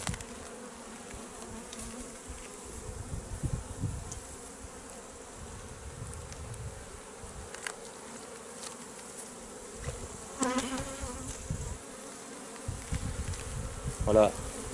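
Honeybees buzz steadily around an opened beehive during autumn preparation for wintering, a continuous close hum with occasional louder passes near the microphone.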